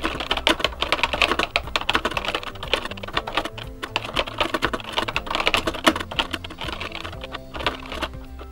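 Typing on a Spectravideo computer keyboard produces close, rapid clacking keystrokes in uneven bursts with brief pauses, and no voices.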